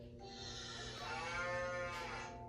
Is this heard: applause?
no